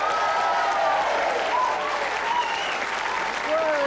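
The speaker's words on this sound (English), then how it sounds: "a big round of applause, please," A 1986 quiz show studio audience applauds a new schoolgirl contestant with steady, even clapping throughout, while a faint tone rises and falls beneath it.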